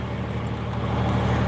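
A compound-turbo Cummins diesel engine on a dyno, holding a steady deep rumble with a low throbbing pulse, loud and continuous.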